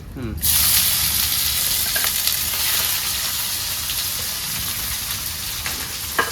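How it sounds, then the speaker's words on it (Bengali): Onions and spice paste hit hot oil in a pan for a Bengali tilapia fish curry, bursting into a loud, steady sizzle with a few faint stirring clicks. "পেঁয়াজ একটু ভাজা ভাজা হয়ে যাবে"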